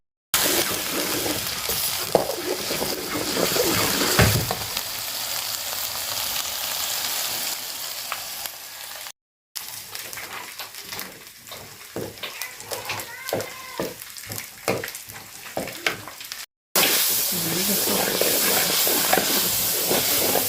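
Hot ghee tadka sizzling for sarson ka saag, a loud continuous hiss and crackle that breaks off briefly twice, with a stretch of stirring clatter and some talking in between.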